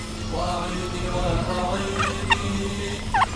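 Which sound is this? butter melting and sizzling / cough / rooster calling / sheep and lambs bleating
rooster calling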